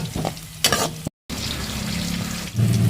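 Garlic and green chilies sauté in a hot pan with mustard seeds, a loud close sizzle and hiss broken by a brief dropout, with stirring scrapes throughout.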